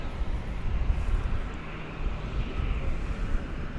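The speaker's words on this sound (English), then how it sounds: "It is a Super Cargo Master coming in from Abilene, Texas, Martin Air Flight 666." A Cessna Super Cargomaster cargo plane on a Martinaire flight arrives at an airport at night, its steady engine drone sounding distant and washed with wind noise.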